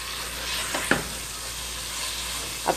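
Minced chicken keema frying in a pan: a continuous close hiss of sizzling oil, broken by two brief scrapes of a spatula stirring the meat, with no talking.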